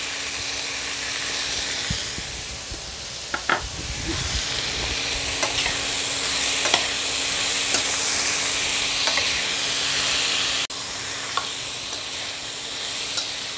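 Spices fry in oil in a cooking pan with a steady, hissing sizzle, broken by a few sharp scrapes and knocks as they are stirred. The sizzle swells louder midway and continues without talk.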